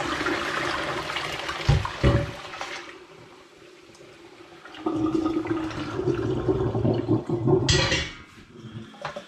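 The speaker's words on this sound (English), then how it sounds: "I'm going to pour this through this colander down here to drain it off." Elderflower water pours through a colander into a kitchen sink, with a sustained rushing, splashing gush that fades and then returns strongly before trickling away.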